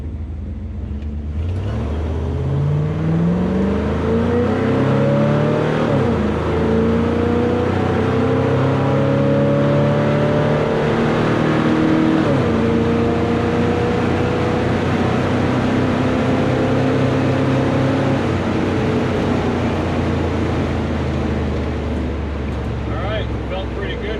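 A 1970 Chevelle SS launches hard at a drag strip, its loud V8 roar rising through repeated gear changes as it pulls away, sustained and close throughout.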